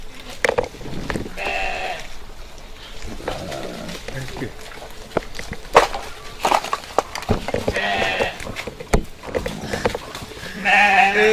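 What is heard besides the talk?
sheep bleating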